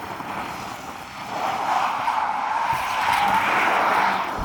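Tires squeal steadily as the rear of a Ford Mustang Mach-E GT Performance, a rear-biased electric car, slides out in a turn, the screech swelling louder over a low road rumble.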